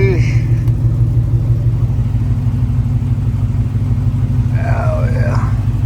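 A car engine idles steadily while the driver refuels, a low continuous rumble running throughout, with a brief higher whine near the end and voices talking over it.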